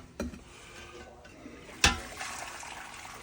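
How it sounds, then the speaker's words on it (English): Hot water is strained off blanched green vegetables, a brief splash and pour followed by a sharper burst of water and a low trickling wash, fairly quiet and close. "I'm gonna take the hot water, strain it carefully."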